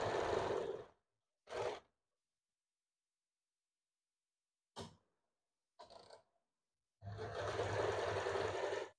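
A sewing machine stitches blouse fabric in several short bursts, the last one longer, with quiet gaps between them.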